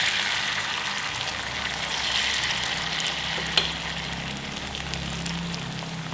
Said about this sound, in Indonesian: nah ini juga kita akan goreng sini